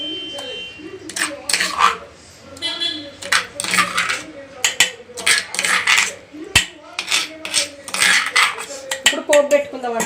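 Gongura chutney scraped from a pan into a bowl, a busy run of metallic clinks, taps and spoon scrapes against steel, close and sharp, with someone talking over the clatter.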